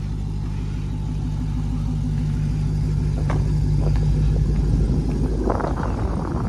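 A factory 2018 Dodge Challenger Widebody Hellcat in green idles with a steady, deep rumble close by, the low drone holding throughout with a few faint knocks and rustles near the end.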